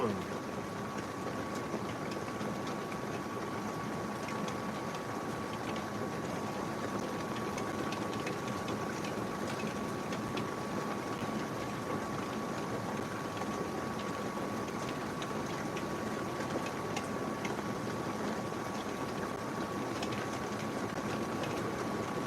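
Heavy storm rain pours steadily outside, a dense, unbroken wash of hiss and roar that holds at an even level for the whole stretch with no talk over it.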